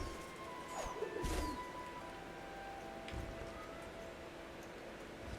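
Bird calls from the forest world of the video game Ori, a few faint coos and chirps over a low, steady ambient wash, with no talking.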